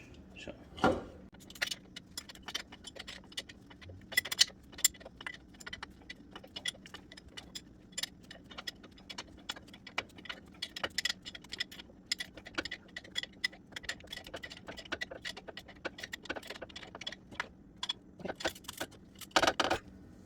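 An 18 millimeter wrench tightening nuts on the front suspension of a Nissan Pathfinder R51, giving rapid metallic ticks and clinks in irregular bursts, close and fairly quiet with no talking.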